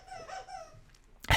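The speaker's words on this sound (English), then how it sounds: "you keep chewing that chew toy" Dog chewing a squeaky chew toy, giving faint, rapid squeaks that build to one sharp, loud squeak at the end, fairly close with no talk.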